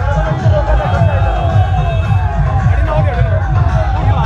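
A large crowd gathers on both sides of the road to welcome Hanuman Beniwal at a political rally in Salasar. There is a dense, continuous murmur of many voices with occasional shouts.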